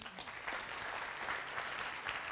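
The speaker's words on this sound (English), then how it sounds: "Great, give a round of applause." An audience gives a round of applause at a talk, a soft, even wash of many hands clapping that sounds somewhat distant and sustained throughout.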